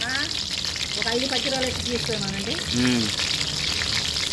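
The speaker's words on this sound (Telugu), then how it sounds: "నూనె కాగిందా తీసుకున్నాను ఎర్రగడ్డ ఎర్రగడ్డలు వేసేసుకుందామండి" Sliced onions fry in hot oil, producing a steady, close sizzling hiss that runs the whole time, with a voice speaking over it.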